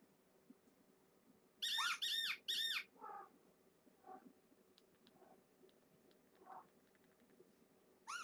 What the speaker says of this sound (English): Squeaking got mom's attention.